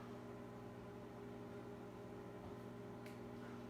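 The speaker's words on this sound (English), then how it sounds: "So I'm putting it back in the microwave for another 30 seconds" Steady, even hum of a microwave oven running while reheating a peanut butter mixture, holding a constant low drone throughout with a faint brief click near the end.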